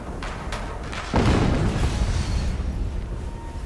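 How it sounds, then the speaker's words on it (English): An explosion in the video game Horizon Zero Dawn bursts after a few faint ticks, a loud booming blast with a rumbling tail that fades slowly over the next couple of seconds. "What? Another explosion."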